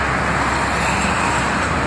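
Steady roadway noise of buses and private cars streaming along the Jakarta–Cikampek toll road, a continuous broadband rumble with no distinct passes standing out.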